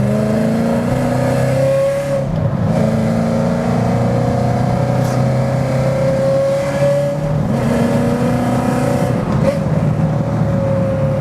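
A Mustang GT fitted with a Shelby engine and undersized tires drives along, its engine note rising and falling through several gear changes as a loud, steady roar heard from inside the car, with no voices.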